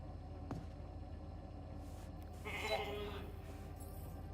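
A sheep in the video game The Alters gives one clear bleat lasting about half a second, standing out over a steady low hum of game ambience, with a short thump heard earlier.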